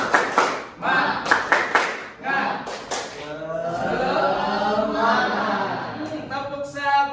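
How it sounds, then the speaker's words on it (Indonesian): A class does the tepuk semangat rhythmic clapping chant, sharp grouped hand claps in counted bursts mixed with voices chanting along, then a sustained group vocal phrase and a few final claps. "Tepuk 1, tepuk 2, tepuk 3."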